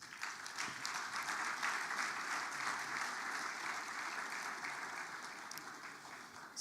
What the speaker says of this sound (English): we need to give them a very loud round of applause